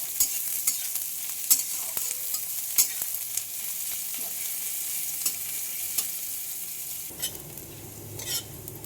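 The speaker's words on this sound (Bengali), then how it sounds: "পেঁয়াজগুলো লাল লাল করে ভাজা হোক।" Chopped onions frying in hot oil and being stirred, heard close up as a continuous sizzle with sharp clicks and scrapes of a spatula against the pan; no one speaks.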